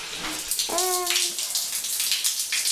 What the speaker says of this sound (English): To take a shower, turn on your faucet.